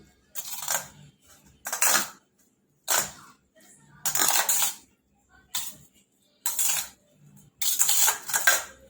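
Sugar stirred into ghee and wheat sev in a pan makes about seven close, crisp scraping strokes. Each burst of spoon-on-metal rasping is separated by short pauses.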